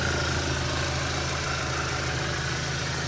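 A 2014 Audi A4 with a turbocharged 2.0-litre engine idles shortly after a cold start, giving a steady, loud, even hum with constant mechanical whir and no change in revs, heard up close.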